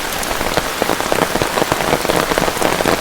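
Steady rain pours down onto surfaces close by, a dense, continuous patter of drops with no voices.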